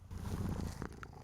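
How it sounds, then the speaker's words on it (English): A pet cat named Rhoda purrs close by in a home office, a soft, steady low rumble lasting a moment before tapering off. "my kitty is purring right next to me"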